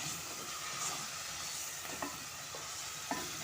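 Spices for a kofta curry roast in a pan with a constant soft sizzle, broken by a few faint scrapes and clinks of a spoon stirring, quiet and close, with no talking.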